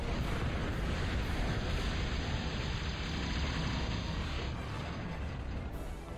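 Long-range Big Bertha artillery in a Total Annihilation game sends out a continuous heavy roar of booming fire, loud and dense, rumbling without a break for several seconds.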